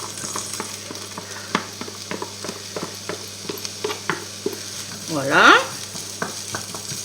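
Onions and garlic cooking in olive oil in a pan, a soft steady sizzle broken by the scrape and tap of a utensil stirring, with a brief louder hiss partway through and a single short spoken word.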